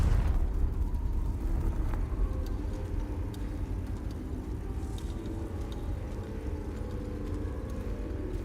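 A Confringo blasting spell explodes in Hogwarts Legacy, a loud, dense rumbling burst that opens strongly and fades into a sustained crackling roar over several seconds.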